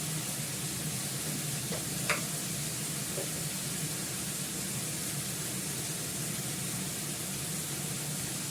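Steady sizzle of food being stir-fried in a kadai, with a soft scrape or two from stirring, continuous and close with no voices.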